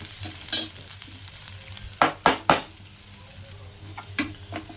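Onions with mustard seeds and curry leaves are stirred and sautéed in a pan for an egg pepper fry, a low sizzle broken by a few sharp close scrapes of the spatula, with no talking.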